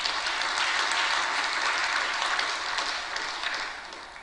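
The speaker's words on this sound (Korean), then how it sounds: "박수 한번 쳐줘요." A church congregation breaks into steady, dense applause that fills the room and holds evenly before slowly tapering off near the end.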